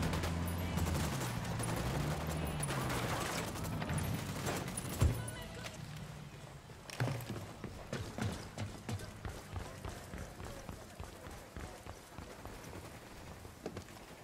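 Gunfire in the tactical shooter Ghost Recon Wildlands, a dense volley of rapid shots followed by a steady rhythmic string of sharp reports, mid-distance and loud over game ambience.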